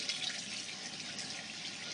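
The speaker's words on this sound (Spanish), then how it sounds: "Y de esta manera regamos, procurando no mojar mucho las hojas" Garden plants being watered gently to avoid wetting the leaves; a steady, close hiss of running water pours continuously without pause.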